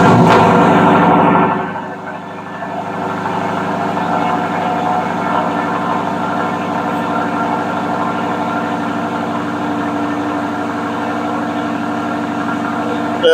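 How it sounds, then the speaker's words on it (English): A 2018 Lexus LC500 engine cold starts with a loud burst of cranking and revving, then settles into a steady, high, even idle that drones on close and loud for the rest of the clip. "let's do a cold start."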